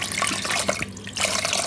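A kitchen tap runs water in a steady, close splashing stream that dips briefly in the middle and then picks back up.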